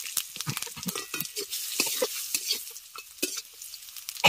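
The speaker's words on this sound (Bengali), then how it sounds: "মাছ ভাজার পরে এই তেলে কাঁচা লঙ্কা দিলাম, আর এই যে আমচুর দিয়ে দিলাম, এই যে তারপর একটু পাঁচফোড়ন দিয়ে দিলাম" Green chilli and panch phoron fry in hot oil left over from frying fish, giving a close, continuous sizzle broken by repeated spatula scrapes and stirring clinks, with no one talking.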